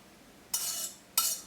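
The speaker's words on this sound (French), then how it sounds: "On va maintenant incorporer donc le mélange de gélatine et de pamplemousse à la faisselle." A utensil stirring a gelatin and grapefruit mixture into faisselle cheese in a bowl, two short scraping swishes, close and fairly quiet.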